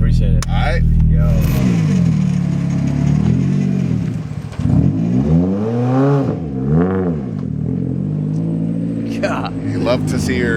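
A drift car revs hard and roars off, its engine note swooping up and down as it pulls away and fades into the distance, with people talking over it.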